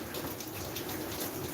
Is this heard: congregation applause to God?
no